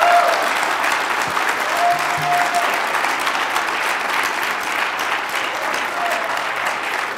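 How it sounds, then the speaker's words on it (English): Dense, sustained applause from a conference audience after a technical talk, an even roar of many hands clapping for over seven seconds, loud and steady, with a brief faint voice early on. "big round of applause"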